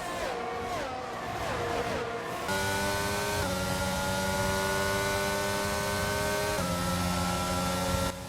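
F1 race cars in F1 22 screaming past at the British Grand Prix, a loud sustained high-pitched engine whine with gear shifts stepping the pitch, several cars overlapping close by.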